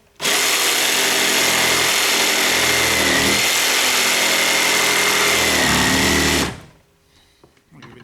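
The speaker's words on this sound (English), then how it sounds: "Cut the corners off pretty easily with a jigsaw." A jigsaw cuts the corners off wooden stool feet held in a vise, a loud, steady buzzing rasp running continuously for about six seconds before stopping abruptly, followed by faint handling noises.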